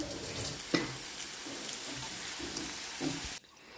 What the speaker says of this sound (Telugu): ఇప్పుడు డీప్ ఫ్రై చేసుకోవాలి ఇలా ఆయిల్లో వేసి కాల్చుకోవాలండి